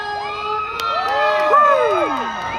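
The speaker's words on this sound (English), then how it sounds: "Can I get a cheer?" A crowd cheers and whoops at a live fan event welcoming Dwayne Johnson in Sydney, a sustained, loud swell of overlapping voices and high shrieks with no clear speech.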